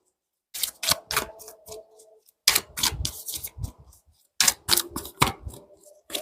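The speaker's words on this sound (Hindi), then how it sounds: "तो चलिए मैं कार्ड्स निकालना शुरू करती हूँ" Tarot cards being drawn and laid out on a surface: bursts of quick, crisp flicks and taps come in three clusters, separated by short pauses, close and moderately loud with a faint steady tone behind them.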